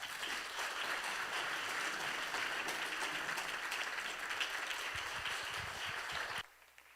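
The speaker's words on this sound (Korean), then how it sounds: "우리 선교사님 나오실 때 큰 박수로 환영하겠습니다" Church congregation clapping to welcome a guest missionary at a New Year special service, a sustained even roar of many hands lasting over six seconds, then cutting off abruptly into quiet.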